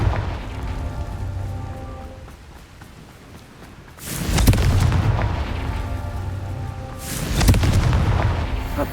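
A Confringo blasting spell in Hogwarts Legacy goes off with a deep, booming explosion that swells and rumbles for several seconds, followed by a second loud burst, both over a low game ambience.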